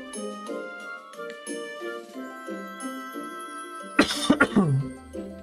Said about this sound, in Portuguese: eu tô com uma tosse hoje